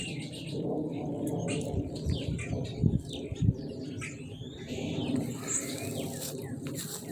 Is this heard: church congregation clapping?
no